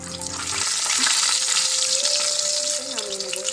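Fish fries in oil in a kadai for a home-style fish curry, giving a steady, close, crackling sizzle. A brief tonal sound rises above it partway through.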